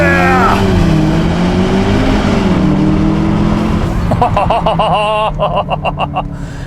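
A Cupra Formentor VZ SUV accelerating hard in Cupra drive mode, its engine note climbing loudly and close, with shifts in pitch as the revs rise and then settle.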